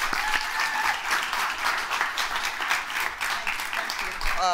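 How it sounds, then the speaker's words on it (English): Sustained applause from an audience, many hands clapping densely and evenly throughout. "can we have a round of applause for Dr. Nike?"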